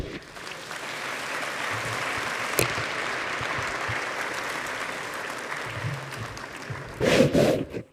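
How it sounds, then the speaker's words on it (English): Warm audience applause for the panelists at the close of a session at the Global AI Summit on Africa in Kigali, steady crowd clapping that swells louder near the end, with a few voices rising over it. "I think another warm round of applause for our excellent panelists"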